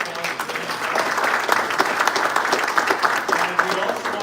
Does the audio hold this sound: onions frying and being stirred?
no